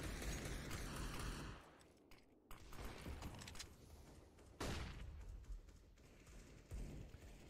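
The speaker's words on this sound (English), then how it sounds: "So it does sound like a war zone out there. Lots of gunfire." Counter-Strike: Global Offensive rifle fire crackles in a competitive esports match, bursts of rapid shots and short fusillades separated by brief lulls, moderately loud throughout.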